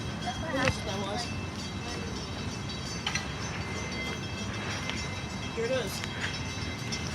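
A train rumbles past a railroad crossing in Boston with a continuous rolling roar, scattered metallic clanks and a brief squeal, while people talk over it.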